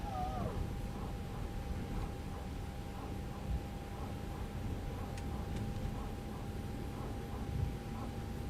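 A steady mid-pitched whine with a faint pulsing rhythm comes from the power transfer unit of a Toliss Airbus A321 in X-Plane 12, droning continuously under a hissing background.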